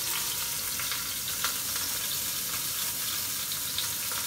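Pork roast browning in an Instant Pot, a steady close sizzle and crackle of searing meat with no voices.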